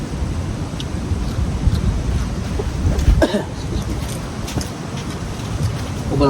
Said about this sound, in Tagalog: Sobrang mahangin ngayon sa amin.